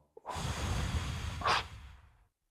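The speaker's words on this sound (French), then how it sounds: "Une respiration." A single deep breath drawn in and let out during a guided French breathing exercise, soft and close, a long airy inhale followed by a brief stronger exhale, with no talking.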